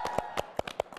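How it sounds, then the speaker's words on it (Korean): A few people clap after finishing a big, spicy meal at a neighbourhood table in Jeju: about six distinct hand claps in a quick, even rhythm, close and clear, with a faint voice underneath. "이 시점에서 박수 쳐야 될 것 같아요"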